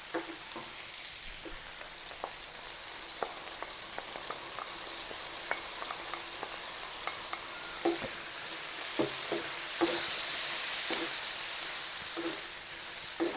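Pork fries in a pan for paella with a steady, dense hiss, as salmorreta is spooned in and stirred with scattered clicks and scrapes, and the sizzle swells briefly near the end. Close and continuous, with no talk.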